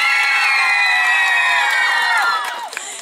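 Outdoor crowd at a karaoke game show on a village square cheers and whoops for a contestant named Nadiia, with high children's shouts over a loud, dense roar that tapers off near the end.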